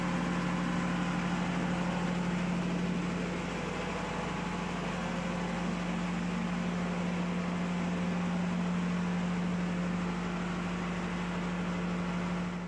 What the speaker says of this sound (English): There we go, the pump is on.